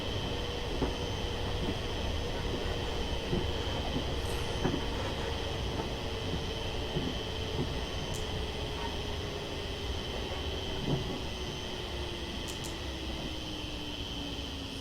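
A Class 380 electric train arriving at a station in Train Simulator: continuous rolling rumble with a motor whine that slowly falls in pitch as it slows, plus faint clicks.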